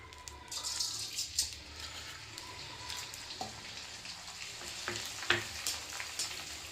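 Edible gum (gond) frying in a pan over a high gas flame, giving a steady soft sizzle with scattered crackles and pops, fairly quiet throughout with no talk.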